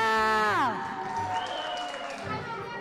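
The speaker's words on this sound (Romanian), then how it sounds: "Aplauze pentru mireasa mea!" Applause and cheering from wedding guests greet the bride at a Romanian wedding gift-calling, rising as a loud voice cuts off and a dense crowd wash continues under scattered shouts.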